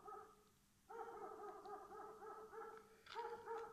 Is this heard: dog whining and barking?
yes